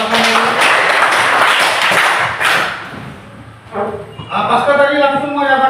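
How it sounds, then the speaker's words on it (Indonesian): A classroom of students claps together in a dense burst of applause for a few seconds, which fades as a teacher begins speaking over scattered final claps. "Coba tepuk tangan dulu."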